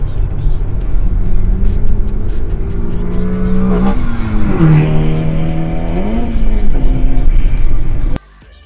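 A car drives close behind another car on a road on the way home from work, with a loud, continuous engine drone that rises and falls in pitch as it revs and shifts, then cuts off abruptly.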